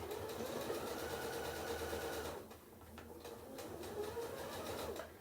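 Sewing machine back stitching around a candy corn colored placemat, a steady close whirring run that briefly dips in the middle before resuming at a similar level.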